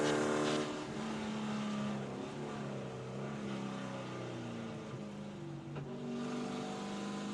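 Spec Corvette race cars at Daytona International Speedway, a steady engine drone from cars battling closely for position, holding at a fairly even loud level for the whole stretch with no voices.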